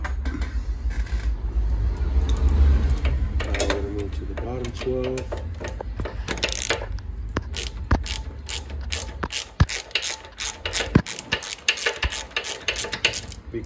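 Ratchet hand tool clicking as it loosens the brake caliper bolts on a Honda TRX400EX quad, with bursts of rapid pawl clicks and metallic clinks close up, interleaved with someone talking.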